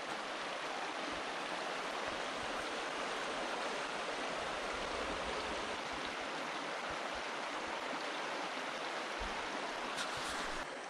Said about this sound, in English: Yeah, there's a creek. Pretty fast flowing, I think.